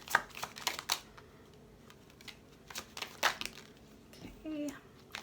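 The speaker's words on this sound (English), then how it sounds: "This always takes a little bit of the longer part shuffling." Tarot cards being shuffled by hand, a series of brisk papery riffles and flicks in short bursts with pauses between, close and fairly quiet.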